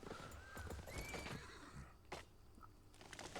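A horse neighs and whinnies in the video game Albion Online, with high rising whinny calls over soft hoof clip-clops and game ambience, fairly close and moderately loud, no talking.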